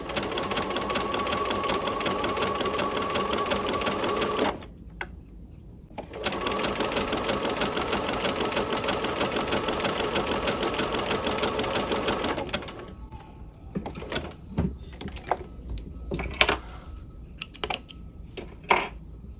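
Sewing machine stitching a narrow rolled hem seam, running in two steady mechanical bursts with a short pause between, then stopping for scattered light handling clicks and taps.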